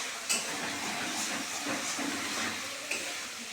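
Chicken fries in a pan for chow mein, a steady sizzling hiss with occasional clinks of a utensil against the pan.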